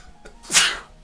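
A single sharp human sneeze, loud and close, bursting out alone in an indoor space.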